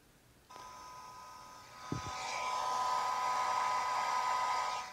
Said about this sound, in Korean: 그래서 다시 그 드라이기 형태의 열풍기로 다시 한번 해봤습니다.